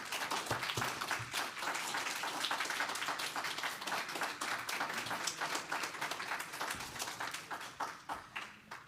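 Audience at an evening Jewish American poetry reading applauding the poets, a sustained dense round of clapping from a room full of people, steady and fairly loud, thinning slightly toward the end.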